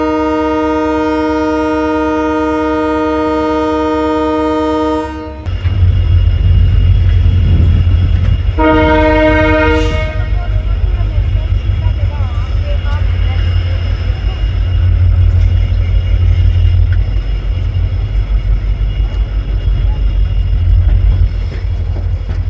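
A horn on the Shri Ganga Nagar–Ambala Cantt Intercity Express blares in a long, loud tone at Shri Ganga Nagar station. Heavy rumbling of the departing train follows, with a second short horn blast over the building roar.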